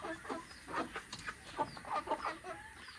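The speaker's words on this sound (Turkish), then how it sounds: "5 horoz 3 tavuk gibiler şu an." Several Sussex chickens, five roosters and three hens, cluck in a busy, overlapping chatter, with short bursts coming irregularly at moderate distance and no talking.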